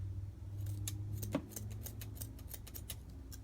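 Scissors snip around the edges of tulle fabric flowers for shabby chic wedding decor: a quick series of light, crisp clicks close by over a low steady hum, with no talking.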